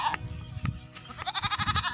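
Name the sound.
goat bleating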